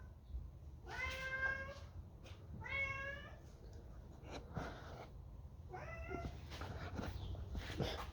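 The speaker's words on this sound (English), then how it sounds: "There's a cat." A cat meows three separate times, each a clear, mid-pitched call with pauses between them, heard close but fairly quiet against faint outdoor background noise.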